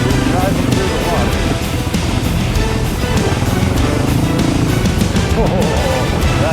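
A Suzuki V-Strom 650 motorcycle rides off-road through deep water, its engine running steadily under rough splashing and churning noise, with a voice talking over it.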